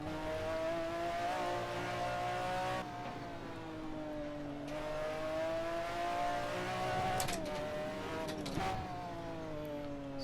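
McLaren F1 GTR race car engine at the Nordschleife in Assetto Corsa, a steady loud high-pitched drone that rises and falls with revs and gear changes throughout, close up and with no talking.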